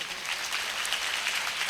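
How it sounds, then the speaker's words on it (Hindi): Church congregation at a Sunday meeting clapping steadily for God, a dense and even wash of applause from many hands with no pauses. "परमेश्वर के लिए ताली बजाओ जोर से"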